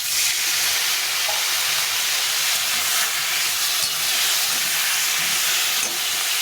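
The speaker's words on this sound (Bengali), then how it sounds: "এর মধ্যে সামান্য একটু জল দিয়ে দেবো, দিয়ে একটু ভাজা ভাজা করে নেব।" Water poured into a hot pan of spiced ridge gourd and pointed gourd sets off a loud, steady steam hiss that fills the whole stretch without pause.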